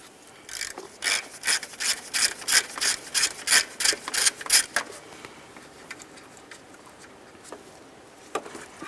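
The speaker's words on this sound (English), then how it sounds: "Let's use a 10mm to remove this nut." A 10mm wrench works a nut off the alternator power wire on a 2006-10 Ford Explorer, giving about a dozen quick, even ratcheting clicks up close before falling to quiet, with a couple of faint taps afterward.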